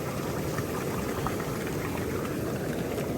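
Aqua clarity treatment poured into the water of a brand new hot tub, giving a steady, continuous bubbling, trickling liquid wash that stays even and fairly loud throughout.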